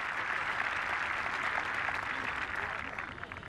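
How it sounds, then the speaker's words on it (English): Golf gallery applause at the Linde German Masters for a finishing player, a broad, steady patter of clapping spectators outdoors that fades slightly at the end, with a commentator's voice running underneath. "fully deserves the applause he's getting"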